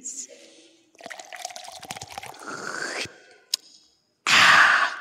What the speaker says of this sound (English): Pour some of each into my glass,